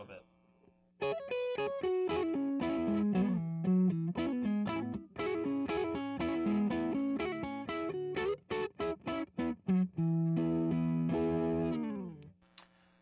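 Electric guitar played through a Fulltone Mas Malo distortion pedal on the neck pickup, volume rolled off slightly, giving a sustained chordal riff with staccato stabs near the end; loud and close, no voices.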